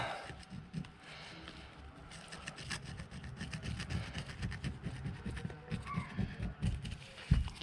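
A scriber scrapes carbon from a piston ring groove in a steady run of short, close, gritty scratches and rubs, quiet overall with a sharper knock at the end.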